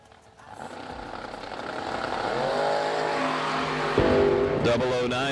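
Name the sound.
drag racing cars, Datsun in left lane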